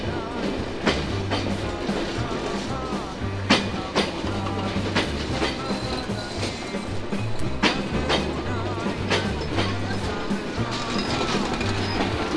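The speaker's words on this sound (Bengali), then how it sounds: "নির্ধারিত সময় প্রবেশ করছে বেনাপোল থেকে ছেড়ে আসা ট্রেন নাম্বার 827 ইন্টারসিটি রূপসী বাংলা এক্সপ্রেস" Intercity Ruposhi Bangla Express, train number 827 from Benapole hauled by locomotive 6309, rolls into Jashore Junction station with steady clickety-clack of wheels over rail joints and low engine rumble, loud and continuous throughout.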